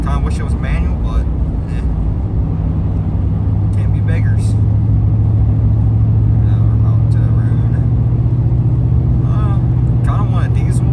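A GMC 2500HD pickup with a 4L80 automatic transmission drives through snow, its engine a constant loud low rumble throughout while someone talks over it.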